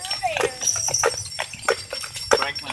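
Hooves of a horse pulling a carriage on a ride in Fountain Inn, South Carolina, clip-clop in a steady quick rhythm beneath people talking close by.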